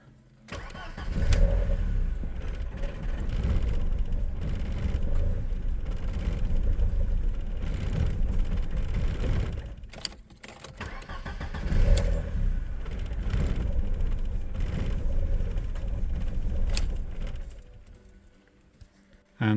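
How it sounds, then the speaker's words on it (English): An Audi S4 running on an LPG setup cranks and fires, then settles into a steady running note. It is cut off around the middle, then restarts and runs again, close and fairly loud. "Start the car."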